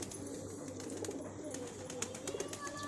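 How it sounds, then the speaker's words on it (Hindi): Pigeons coo softly while drinking water, low murmuring calls over a continuous noisy background, faint and fairly distant. "सब कबूतर कैसे पानी पी रहा है पूरा।"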